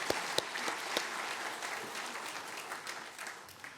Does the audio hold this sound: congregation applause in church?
yes